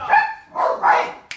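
A dog gives a few loud, close yelps or barks in quick succession indoors at home.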